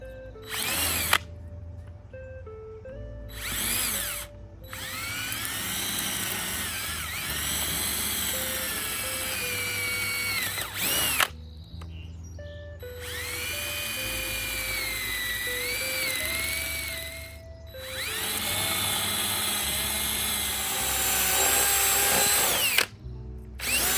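A power drill bores holes for bolts in several loud, close bursts, its motor whining up and down with short pauses between passes.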